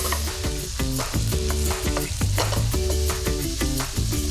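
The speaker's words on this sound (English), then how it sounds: "that beef is getting nice and brown" Lean ground beef browning in a pan with onions and garlic, a steady close sizzle and frying crackle with rhythmic stirring scrapes over light background music, no talking.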